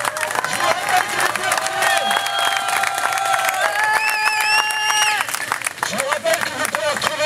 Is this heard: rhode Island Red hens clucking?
no